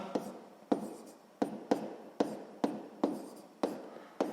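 Chalk or marker writing on a board while working a sixth-grade maths exercise, heard as a series of about nine sharp, close strokes at a steady rhythm, each followed by short scratchy trailing.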